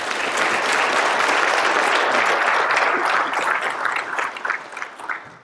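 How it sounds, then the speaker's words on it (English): Warm applause at a Brevard County Sheriff's Office swearing-in ceremony, many hands clapping in a full, steady roar that thins toward the end into scattered individual claps. "That's my wife clapping."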